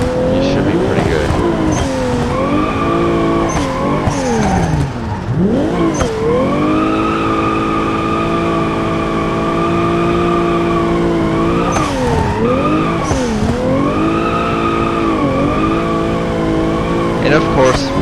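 A car drifting in the BeamNG driving game gives a loud, continuous engine drone that rises and falls with revs, while tires squeal and skid through slides. A voice talks over it.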